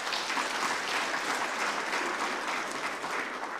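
An awards-ceremony audience gives a dense, sustained round of applause, many hands clapping at once in a hall, loud and unbroken throughout with no voices over it.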